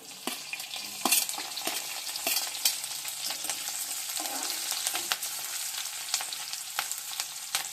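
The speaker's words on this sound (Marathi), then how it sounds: "मस्त लाल होईपर्यंत आपण त्याला हलवून घेऊया।" Garlic and green chillies sizzling in hot oil for a Maharashtrian matki bhaji, with a bright continuous crackle and repeated scrapes and knocks of a spatula stirring the pan.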